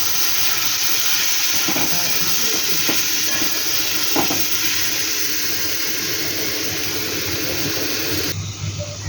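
Chili, turmeric and coriander powders fry in a hot pan for a dried-fish, potato and eggplant dish, a dense continuous sizzle with soft scraping stirs throughout, close and loud until it quiets near the end.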